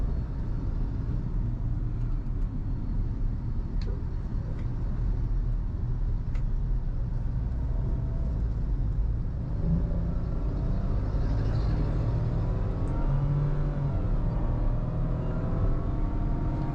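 A 2025 Nissan Magnite pulling away at night, a steady low engine and road rumble inside the cabin, continuous and even with faint tonal whine rising over time.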